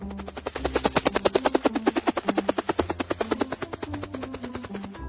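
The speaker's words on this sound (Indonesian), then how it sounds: "Ada yang dijemput dengan dengan helikopter." A helicopter's rotor thumps in a fast, loud, even chop as it flies close overhead, with engine whine beneath the beating blades.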